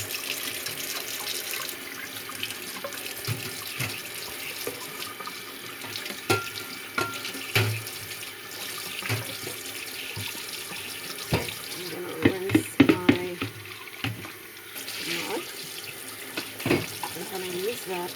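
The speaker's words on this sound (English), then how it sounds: "I am going to wash the cans." Tap water runs steadily into a kitchen sink while food cans are rinsed under it, with a few clanks and knocks of metal cans against the basin during preparation of homemade Mediterranean hummus.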